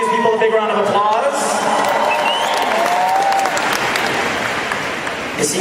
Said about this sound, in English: You gotta give these people a big round of applause.